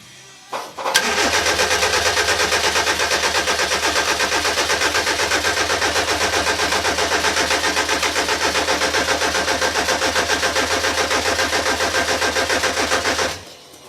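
A Mini's starter cranks the engine continuously for about twelve seconds without it firing, a loud, close, even rhythmic churning that stops abruptly.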